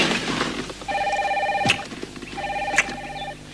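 A car telephone in a mid-1980s car rings in two bursts of electronic trilling tones separated by a pause. The ringing is fairly loud over a low background hum.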